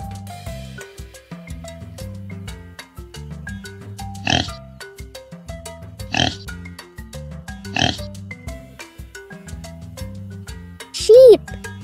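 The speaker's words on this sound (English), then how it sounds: "Pig." A pig on a farm gives three short, punchy grunts spaced a couple of seconds apart, sitting over continuous bouncy children's music.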